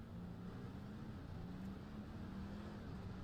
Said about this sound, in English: Let's hear how this engine sounds as he pulls away.